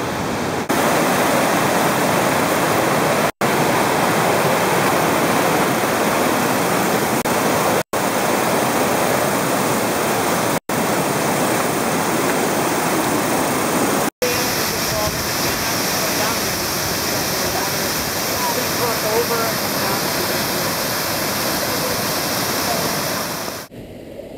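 Steady, loud rush of a small waterfall in Mondulkiri, Cambodia, a dense continuous roar of falling water heard up close without a break, with a brief quieter dip near the end.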